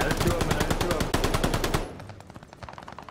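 Rapid machine gun fire in Call of Duty: Vanguard, a loud, evenly spaced burst of shots for nearly two seconds, then quieter distant rattling as the close firing stops.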